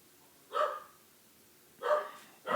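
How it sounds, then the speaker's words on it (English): A dog barks in three short bursts, spaced irregularly, moderately close against a quiet room. "She's literally barking at nothing."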